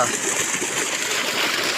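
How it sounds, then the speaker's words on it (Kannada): Water from the Bhadra upper canal project rushes along toward a village, making a loud, steady, broadband roar of flowing water that stays constant throughout. "ಭದ್ರಾ ಮೇಲ್ದಂಡೆ ಯೋಜನೆಯ ನೀರು ನಮ್ಮ ಗ್ರಾಮಕ್ಕೆ ಹೋಗ್ತಾ ಇದೆ"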